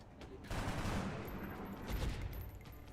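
Gunfire and suppressing fire from XCOM Long War, a faint, sustained burst of rapid shots that swells, then tapers off over a few seconds.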